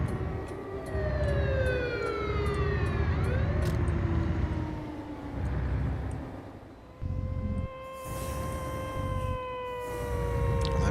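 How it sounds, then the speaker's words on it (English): Old-fashioned wailing police sirens sweep up and down in American Truck Simulator, long rising and falling tones layered over a steady low engine and road rumble, with some sirens fading in and out as others continue. "And them sirens sounds as if they're from the 1950s."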